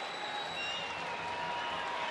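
Baseball stadium crowd applauding at a Texas Rangers home game against the Angels, a steady, distant wash of clapping and cheering that holds at an even, fairly quiet level throughout.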